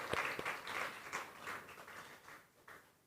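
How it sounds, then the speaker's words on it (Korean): Korean church congregation at a Sunday service in Tashkent claps together, rapid dense applause with sharp early claps that gradually thins and fades over a few seconds, moderately distant. "우리 하나님께 영광의 박수 함께 올려드리도록 하겠습니다."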